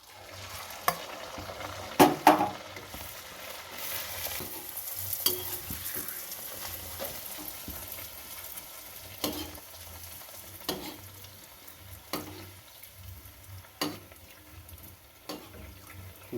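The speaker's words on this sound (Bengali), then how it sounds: "কড়াতে লুচি যেগুলো বেলেছিলাম এবার ছেড়ে দেবো।" Luchi, rolled flatbreads, fry in hot oil in a wok, giving a soft steady sizzle punctuated by sharp clinks and stirring scrapes of a utensil against the pan, with no talking.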